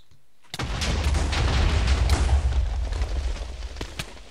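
TNT blows up in Minecraft Hardcore Games PvP: after a brief quiet moment, loud booming blasts hit, several explosions overlapping into a sustained roar with sharp pops that slowly fade.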